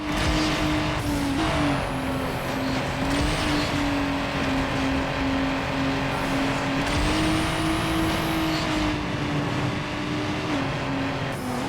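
Cars in a Need For Speed Underground drag race weaving through traffic, a loud continuous high engine whine holding near-constant pitch with small shifts, plus road rush and tire noise, with no talk.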